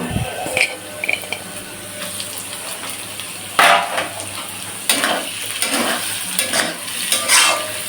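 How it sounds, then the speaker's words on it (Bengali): Onions and green chillies fry with lentils in a pan, a steady sizzle punctuated by loud, irregular spatula scrapes and stirring knocks against the metal. "একটু হালকা করে ভেজে নেব ডালের সঙ্গে পেঁয়াজ"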